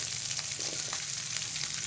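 Dried chili, cumin seeds and curry leaves frying in hot oil for bread masala, a steady close hiss and crackle of sizzling with faint scattered pops, alone without speech.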